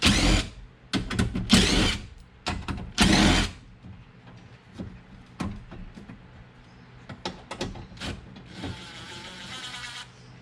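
A power tool whirs in short, loud bursts while removing the window motor bolts inside the door of a Jeep Grand Cherokee, with clicks and clunks of tools between spins.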